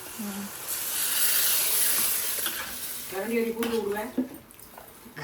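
Loud hissing sizzle as water hits a hot pan while making pori kuzhambu, slowly fading, followed by faint scraping and a brief murmur of voice near the end.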